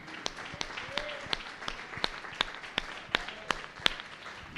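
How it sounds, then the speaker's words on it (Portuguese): Sharp, evenly spaced claps ring out at a steady beat during a Portuguese-language church service, with a soft room murmur between each strike. "uma salva de palmas"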